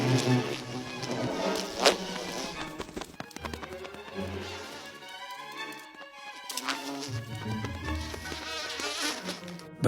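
Bees buzz around forest flowers in the wild, a faint insect drone running beneath a louder layer of other sound.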